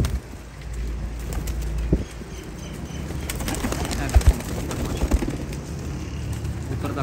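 Rampuri and Ferozpuri pigeons coo faintly in a loft amid steady background noise, with a few sharp knocks or wing flaps standing out near the end.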